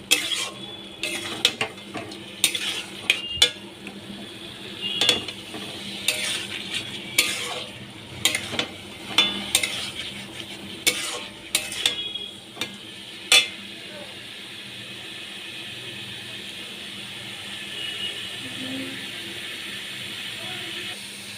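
Pre-fried paneer and potato are sautéed in a pan, with repeated scraping spatula strokes over a soft background sizzle; the stirring is close and rhythmic, then eases into a quieter steady hiss.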